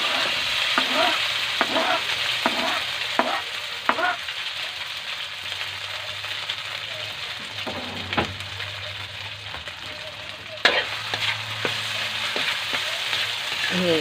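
Onion and garlic frying for a Visayan-style spaghetti sauce, a steady sizzle with repeated sharp scrapes and knocks of a spoon stirring the pan at an irregular pace, heard up close with no talking.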